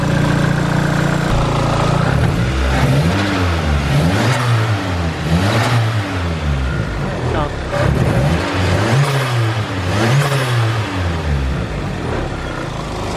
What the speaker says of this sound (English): Let's hear some cool turbo noises.